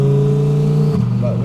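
Twin turbo Audi R8 engine revving loudly and close, a steady held drone that shifts pitch near the end as the revs change, with voices faintly under the engine.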